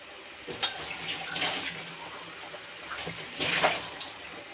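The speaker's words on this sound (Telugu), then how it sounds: "ఇలా వేసేసి కొద్దిగా వాటర్ వేసుకొని" Water is poured into a pan of eggplant curry with tamarind, giving brief splashy pours and sizzling bursts at close range.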